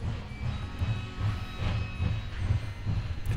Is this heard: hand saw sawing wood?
no